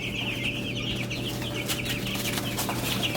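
Chickens cluck busily in their new chicken-tractor coop on a homestead, a dense, continuous chorus of close clucks and chatter from several birds with no talk.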